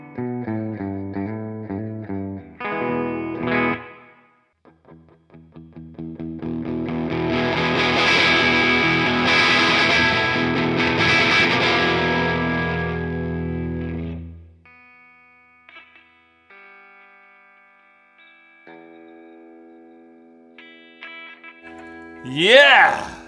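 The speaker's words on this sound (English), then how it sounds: "clean tone first, and then my top five tones from the Stone Age Fuzz" An electric guitar plays through a Stone Age Fuzz pedal, a four-circuit fuzz unit. Clean plucked notes and chords give way to a loud, thick, saturated fuzz passage that rings out, then fade to softer sustained notes and a closing pitch slide.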